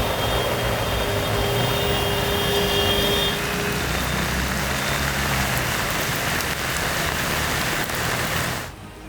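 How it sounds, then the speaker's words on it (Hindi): Heavy rain pours down steadily during flooding, a dense, loud hiss that continues without a break and then cuts off at the end, with no voices. "तेज बारिश क्रोध बनकर कहर बरपा रही है।"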